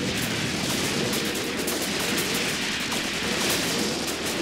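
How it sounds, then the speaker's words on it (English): Soviet artillery guns firing in Graviteam Tactics: Mius Front, a dense, steady wash of distant battle noise with overlapping gunfire and rumbling reports running continuously throughout, no voices. "I'm going to aim all these guns towards the enemy. And open fire."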